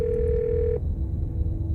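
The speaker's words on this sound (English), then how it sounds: "The phone rings." Phone ringing in the horror game Scarlet Hollow: a single electronic ring tone that cuts off abruptly, leaving a faint steady tone over low background rumble, loud and close with no talk.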